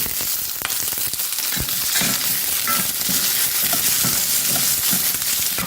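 Small shallots fry in oil with grated coconut for a spicy chutney, a loud, continuous crackling sizzle close up, broken by occasional stirring scrapes.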